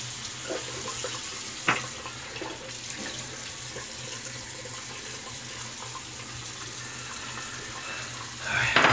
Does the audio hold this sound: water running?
yes